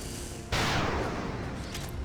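A single sniper rifle shot in XCOM 2 Long War 2 cracks out suddenly at close range, then a broad noisy tail of game sound lingers and slowly fades.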